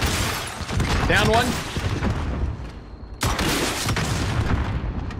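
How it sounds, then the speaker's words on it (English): Loud, close gunfire and booming blasts rumble almost without break as RPG rockets and explosions go off in a Call of Duty Warzone match, while a player talks briefly over the barrage. "We got RPGs. I'm shooting one right there."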